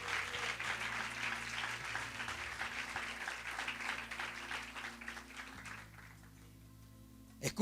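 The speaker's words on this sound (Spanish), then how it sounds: "Dale un fuerte aplauso a Jesús" Applause from a church congregation during a service, a dense, steady wash of clapping over a sustained musical backing that thins out and fades near the end.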